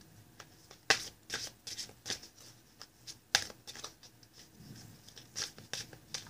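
Large tarot cards being shuffled and handled, a series of close papery riffles and slaps in irregular bursts, fairly quiet with no speech.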